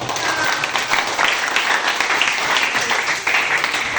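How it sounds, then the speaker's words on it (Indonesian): Steady applause from an audience in a classroom session, dense and sustained without a break for the full length. "berikan tepuk tangan untuk"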